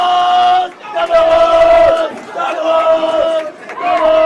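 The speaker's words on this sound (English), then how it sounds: "my boys' team is back here cheering really loud for these girls right now" Boys' bowling team shouting and cheering loudly in long sustained bursts for a girls' team at a state high school bowling tournament, voices close and strong with brief dips between cheers.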